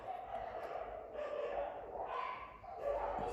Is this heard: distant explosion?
no